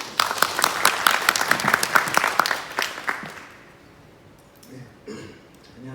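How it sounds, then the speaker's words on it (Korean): Audience applause rising to welcome a cloud consulting team leader onto the stage at a generative-AI fulfillment session, a dense burst of many clapping hands that thins and fades out after about three seconds into quiet room tone. "큰 박수로 팀장님 모시겠습니다."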